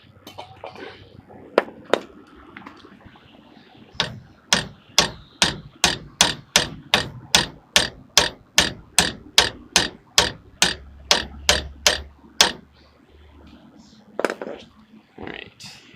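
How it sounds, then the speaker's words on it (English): Metal hammer strikes ring out in a long, steady series of about twenty evenly spaced blows, with a few scattered taps before and after, as a bushing is hammered into a rear leaf spring. "just have to tack the rest of it in with a hammer."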